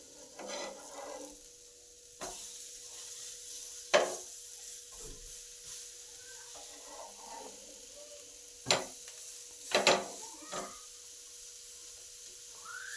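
Potato bread toast cooks in a pan on low heat, giving a faint sizzle broken by a few sharp scrapes and clinks of a spatula.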